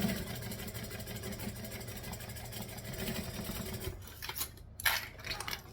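A sewing machine stitches around a fabric bag with a steady, humming motor drone that stops partway through, followed by softer handling rustles and bumps.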